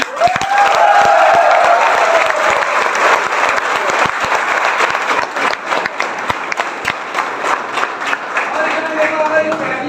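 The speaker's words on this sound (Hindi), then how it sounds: "और जोरदार क्लैपिंग हो जाए।" Audience applause at an achievement event, dense sustained clapping filling the room for the full stretch, loud and close with a few sharper individual claps standing out toward the end.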